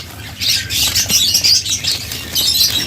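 Lovebirds and budgerigars in breeding cages squawk and chirp in a dense, busy chorus close by, with brief flutters of wings and no talking.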